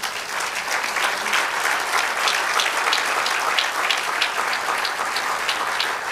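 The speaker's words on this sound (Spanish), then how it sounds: "Denle un aplauso al Señor." A church congregation claps in praise during a sermon, with steady, moderately loud applause and audible individual claps across the whole stretch.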